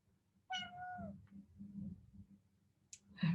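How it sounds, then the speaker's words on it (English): A house cat meows during a quiet guided stillness-and-movement practice, giving a few short, fairly close calls with gaps of near silence between them. "We now have a cat who's joining in."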